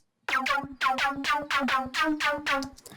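A bright, buzzy synthesizer lead built from FM operators, with operator F modulated, in the style of a drum-and-bass lead. Seven rhythmic staccato notes sound alone, each with a rich harmonic stack that sweeps down in tone.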